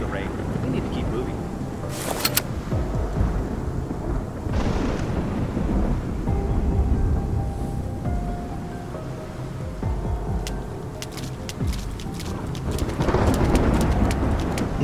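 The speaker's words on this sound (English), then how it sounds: "It's just the rain." Video game thunderstorm: steady rain with rumbling thunder, loud and close, while voices talk over it and brief sharp cracks break through now and then.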